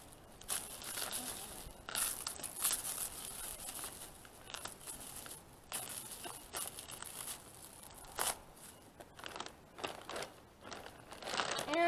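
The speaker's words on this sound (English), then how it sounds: "I'm just going to cut the cellophane off with my pocket knife." A pocket knife cuts away cellophane wrapping from a package of electric fencing, giving quiet, close crinkling and tearing sounds with sharp plastic crackles scattered irregularly throughout.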